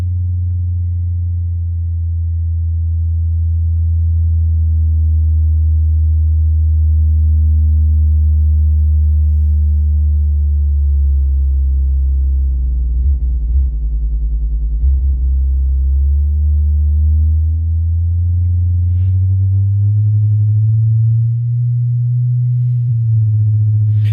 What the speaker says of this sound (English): I am hearing a very big deep sound. So this means that the subwoofer is working perfectly